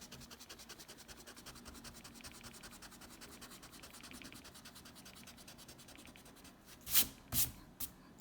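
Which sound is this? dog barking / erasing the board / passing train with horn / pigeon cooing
erasing the board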